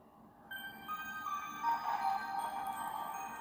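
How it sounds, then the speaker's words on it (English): A Goonies pirate lightsaber with a Crystal Focus X board hums on a yellow blade, an eerie, tonal drone with layered warbling pitches rising in after a quiet start and sustaining at moderate level without voices. "Pretty cool eerie hum track to this."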